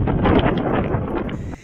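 Wind buffeting a microphone during rainy, cold fishing, rough gusty rumble with rustling noise, loud and uneven, fading out at the end.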